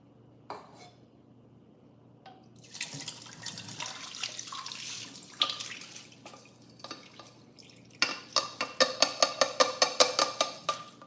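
Rice-washing water drains and splashes into a sink, followed by a rapid series of rhythmic clanking taps, like a bowl being knocked to shake out the last drops.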